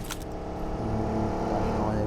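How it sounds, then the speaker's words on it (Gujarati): A car in a video game revs and drives past, a rising engine drone building in the second half, mixed with game background sound and clicks near the start. "ગાડીનો અવાજ આવ્યો એ ગઈ."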